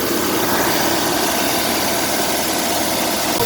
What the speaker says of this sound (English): So now we can start our low pressure compressor.